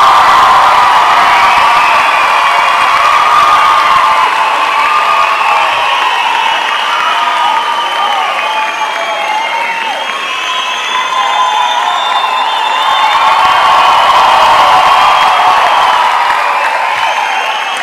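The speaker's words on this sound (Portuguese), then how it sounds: "recebam com muitos aplausos e barulho, Fabiano Cambota." A large comedy-show audience in Brazil cheers and claps continuously to welcome a comedian, with shrill whoops and shouts rising and falling in a loud, sustained roar.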